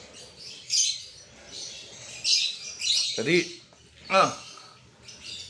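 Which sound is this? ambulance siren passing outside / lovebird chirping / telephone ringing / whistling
lovebird chirping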